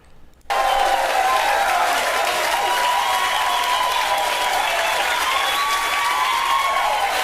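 A crowd breaks into loud, sustained applause after a brief quieter moment, with steady clapping and some cheering continuing throughout.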